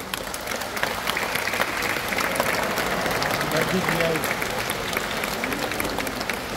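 A zoo audience at a sea lion show applauds steadily with a dense, continuous wash of clapping from many hands, while a presenter talks over it.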